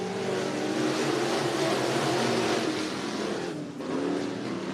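Race cars in a heat race at Cottage Grove Speedway in Oregon, a continuous roar of engines at a distance, steady and loud with a slight dip partway through, no voices.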